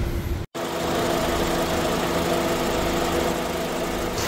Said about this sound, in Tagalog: So napakaganda ng engine nito. Napakalaki. Powerful. i-VTEC gas engine po.